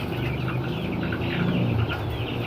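A flock of 45-day-old broiler chickens cluck and murmur together in a pen, a dense continuous chatter of overlapping calls heard close up.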